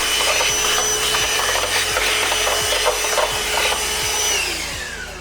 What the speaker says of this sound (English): we go back to the air filter and take the old one out